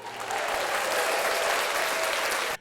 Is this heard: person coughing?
no